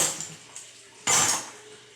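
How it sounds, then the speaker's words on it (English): Glass canning jars of pressure-canned chicken thighs clink as they are lifted and set into a sink, a couple of soft knocks followed by one louder, bright glassy clatter nearby, with no talking. "Pick each jar, and I'm going to just move them into the sink."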